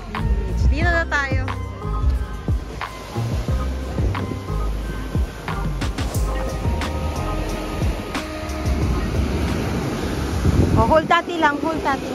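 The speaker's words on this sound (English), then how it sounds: "The water is too, the waves are too big." Big ocean waves roll and surge continuously at a beach in La Union, with heavy wind buffeting the microphone and voices faint in the mix.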